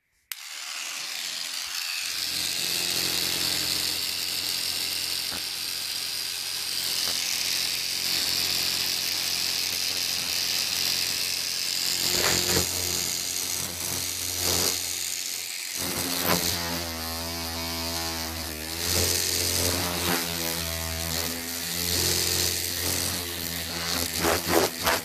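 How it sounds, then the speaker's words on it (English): An electric toothbrush runs steadily and close up for about twenty-five seconds, its buzzing hum shifting in pitch and intensity as it is pressed and moved, with no talking. "Let's hear this electric toothbrush."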